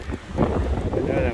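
Wind gusts across the microphone on an island shore in New York, a close, rumbling buffet with voices in the background.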